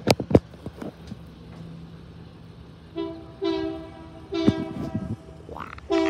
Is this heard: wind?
no